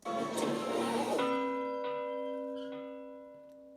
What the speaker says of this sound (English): You whistled out and rang the bell.